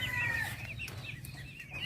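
A Shamo hen clucking softly nearby with a few short calls over a steady low farmyard hum, no voices.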